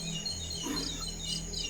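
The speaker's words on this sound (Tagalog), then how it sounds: "Kahit ibon yan, parang kagulat po." Bird chirps heard near a corrugated metal roof, a few light tweets over steady background hum, fairly faint and without talk.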